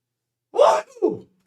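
One person sneezes once, close and loud in a quiet room. A sharp, breathy burst is followed by a shorter, softer tail, with nothing else heard around it.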